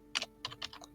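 Fingers tap a computer keyboard in a short burst of about five or six quick, close, crisp keystrokes with brief gaps between them, no voice present.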